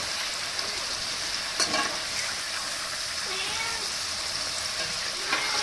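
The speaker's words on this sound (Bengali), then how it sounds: "মুচমুচে করে ভাজাটা হোক, একটু সময় লাগবে ওটা ভেজার" Chickpea pakoras deep-fry in hot oil, giving a continuous hissing sizzle with occasional soft bubbling pops and a faint stirring clink, moderately close and without speech.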